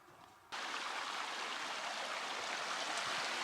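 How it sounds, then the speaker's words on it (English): Steamboat Creek, the outflow of Steamboat Lake on the Pacific Crest Trail, rushes in a steady, close broadband wash of flowing water that starts abruptly after a brief quieter moment and holds constant. "Here's Steamboat Creek."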